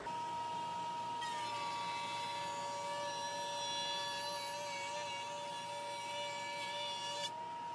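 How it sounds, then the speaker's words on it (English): A Kreg benchtop router table spinning a 3/4 inch straight bit gives a steady high-pitched whine that rises as it cuts wood, loud and continuous before cutting off near the end. "I've thrown in a 3/4 inch straight bit to try to create even more dust at once."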